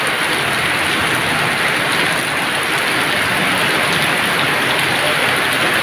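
Constant heavy downpour in Valenzuela, Philippines, a loud unbroken hiss of rain striking hard surfaces with no voices.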